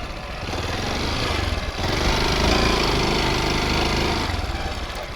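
A Honda XR 190 CT motorcycle engine drones loudly and steadily while riding off-road, its revs swelling briefly midway, close to the listener with no speech.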